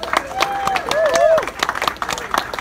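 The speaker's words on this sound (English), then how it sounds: "Keep that applause going, ladies and gentlemen, for these four wonderful gentlemen." Audience applauding a jazz quartet after a set, scattered hand claps and crowd noise throughout, with a voice talking over them.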